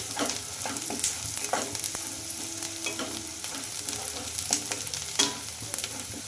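Chopped ginger pieces sizzle and fry in a pan with onions, a steady close crackle broken by scraping stirs and occasional sharp pops.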